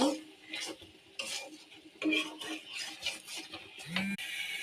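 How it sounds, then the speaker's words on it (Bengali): A utensil scrapes and stirs chili powder and spices around a cooking pan in a run of close, irregular strokes, with a faint sizzle underneath and an occasional clink against the metal. "এখন একটু নাড়াচাড়া করব।"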